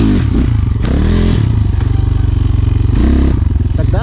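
An enduro motorcycle engine revs hard as the rider pulls off sharply on the clutch over a log, the buzzing engine note rising and dipping close by, with some clattering and scraping.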